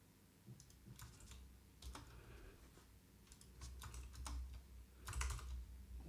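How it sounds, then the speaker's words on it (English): Computer keyboard typing, quiet irregular clusters of key clicks and taps spread across several seconds, close but faint, with no talking. "Why is my keyboard not working?"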